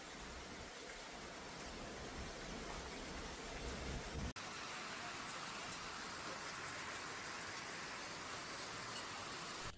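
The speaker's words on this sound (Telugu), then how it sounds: "ఈ విధంగా బలమైన గాలులతో బెంగళూరులోని వడగళ్ల వాన కురవడం కూడా జరిగింది." Heavy rain with hail and strong winds pours down in Bengaluru, a dense, steady roar that continues without a break and changes tone partway through.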